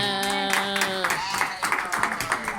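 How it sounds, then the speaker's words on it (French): A church congregation claps to acclaim the Lord, with a sung or sustained voice at the start giving way to a run of quick, uneven handclaps that grow denser toward the end. "Acclame très fort le Seigneur"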